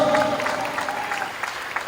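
A church congregation at an outdoor exhortation gathering in Quirino, Bacnotan, La Union claps together in a steady, fairly loud burst of applause that fills the whole moment.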